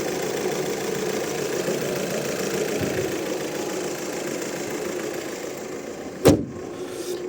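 The warmed-up 2.0 TDI diesel engine of a 2013 VW Touran with DSG gearbox idles with a steady, low rumble nearby, with one brief sharp click near the end.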